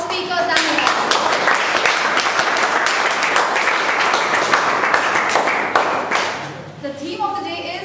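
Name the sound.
applause for the speakers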